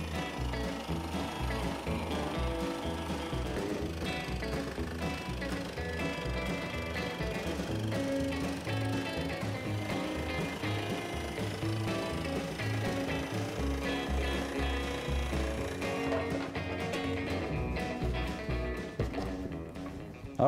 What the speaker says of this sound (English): we're just gonna use our saber saw and cut that out